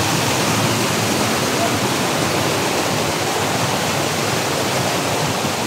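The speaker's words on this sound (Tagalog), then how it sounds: "Lakas ng tubig oh." Strong rushing water from a forest waterfall, a steady, dense, loud roar that holds without a break from start to finish, with no voices over it.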